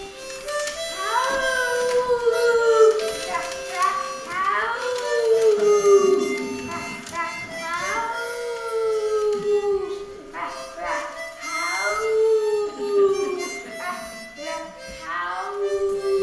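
A dog named Buddy howls along to a harmonica in a community theatre performance, long wavering howls rising and falling over the steady reedy harmonica tones for several phrases, close and fairly loud.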